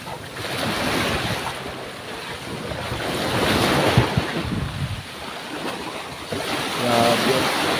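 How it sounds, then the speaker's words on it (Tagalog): Waves wash onto a beach and break against rocks at Bitoon White Beach in Anda, Bohol. The surf surges and recedes steadily with wind noise on the microphone, and a brief murmur of voices comes near the end. "Alam mo yung hampas ng tubig, ano? Sa baybay, sa bato."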